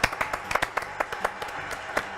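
A studio audience on a French TV show claps in dense, continuous applause, many hands striking in a busy wash of sharp pops with no clear pauses.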